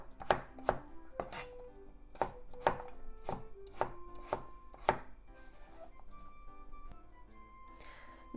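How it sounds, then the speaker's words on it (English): A knife slices broccoli diagonally on a cutting board, with about ten crisp, evenly spaced chops close by, followed by quieter handling. "Cut into half. Then diagonal slices."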